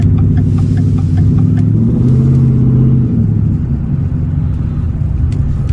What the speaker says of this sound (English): So it's a slight little ticking, but it actually gets louder as the truck warms up.